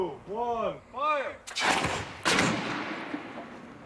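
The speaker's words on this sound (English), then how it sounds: "fired 2x4s at 73 miles per hour into a variety of structures to approximate the damage done during a tornado" Air cannon firing a 2x4 lumber board at 73 miles per hour into a test structure, a sharp loud blast and crack followed by a second impact and fading rattle, after a voice speaks.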